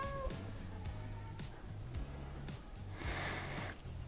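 A cat meows a few times indoors, short cries scattered across the stretch over a low room hum, with no talking.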